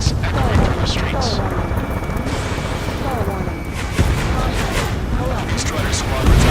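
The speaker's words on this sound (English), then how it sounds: "Gunfire and the roar of jets echoing through the streets." Gunfire and roaring jets in Ace Combat, set over a city under martial law: a dense, loud wash of booming blasts and engine roar fills the whole stretch, with repeated sharp impacts and whooshes of passing aircraft.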